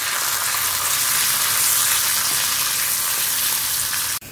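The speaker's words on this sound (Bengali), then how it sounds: "একটু নাড়ানাড়ি করবো জাস্ট" Cashews, raisins and walnuts frying lightly in a pan, a loud, steady close sizzle with faint stirring that stops abruptly at the end.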